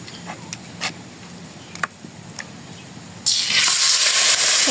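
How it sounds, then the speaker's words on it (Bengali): Fritters frying in oil in a village kitchen pan, erupting into a loud, steady sizzle after soft stirring and clinks, close to the microphone. "এখন বড়া ভাজি করব।"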